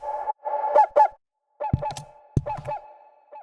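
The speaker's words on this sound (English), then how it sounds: "take the tail and reverse it, and then just reverse it into itself" Reversed reverb tail swelling as a riser in a bass music production, heard soloed: a tonal, hazy wash that builds in two phrases, then broken by sharp low hits with ringing, pitched layers continuing beneath, no voices.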